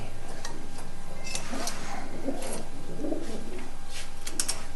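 Pigeons with a strong build, kept as a hobby flock, coo softly in soft repeated calls over steady background noise, with occasional chirps higher up and no voices.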